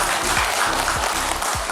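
A crowd gathered at a government social-aid event keeps up continuous applause, a dense, even clapping texture with a faint voice or tones running beneath it.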